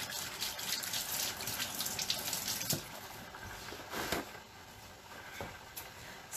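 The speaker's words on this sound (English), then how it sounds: "Let me wash my hands off." Tap water runs steadily into a sink as hands are washed in a home kitchen while salmon is being prepared, a continuous gushing stream with a few louder splashes and no talk.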